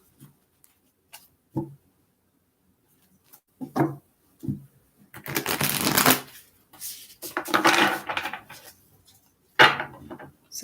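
A deck of tarot cards is shuffled by hand: scattered light taps and clicks, then longer riffling bursts of card flutter, fairly close and with no speech.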